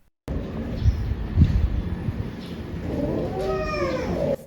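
A pet cat meows a few times indoors, close and fairly loud, with a drawn-out wavering cry near the end over a faint background hiss.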